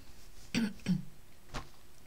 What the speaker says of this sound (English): you'll have to excuse me if I keep clearing my throat